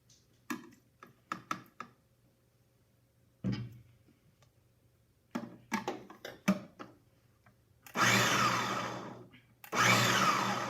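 A blender pulsing a healthy brownie batter dip, preceded by scattered clicks and taps, then two loud bursts of whirring motor about two seconds each, close up with no talk.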